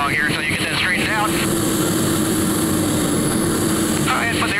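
Propeller airplane flying at a 1980 airshow in Punta Gorda, Florida, a steady droning engine hum beneath an announcer speaking over a public address system throughout.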